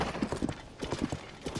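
Horse hooves clip-clop in a steady trotting rhythm in The Legend of Zelda: Tears of the Kingdom, close and distinct with no talking.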